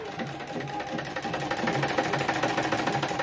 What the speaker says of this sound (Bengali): এরপর আমি এই পর্যন্ত সেলাই দিয়ে